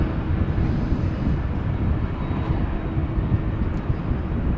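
A business jet accelerates for takeoff at Amsterdam Schiphol Airport, a loud, steady low rumbling engine roar close at hand, without a break.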